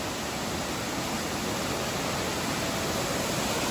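Amboli waterfall in the Konkan hills roars as a steady, dense rush of falling water, loud and close, with no pauses and no voices.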